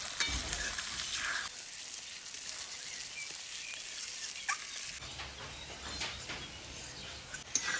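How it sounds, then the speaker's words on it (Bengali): Onions frying with spices in hot oil in a pan make a bright, close, continuous sizzle that swells and dips as the pan is stirred, with no talking. "মশলার সাথে পেঁয়াজটা ভাজলে কি পেঁয়াজের ভিতরের অংশটাও খুব ভালোভাবে সিদ্ধ হয়ে যাবে"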